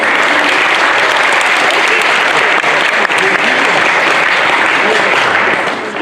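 A crowd at a graduation event applauds loudly and continuously, dense clapping filling the room for several seconds before tapering slightly at the end.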